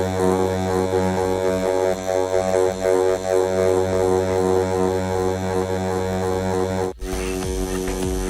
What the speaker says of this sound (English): you'll hear the difference in the tone of the buzzing from the machine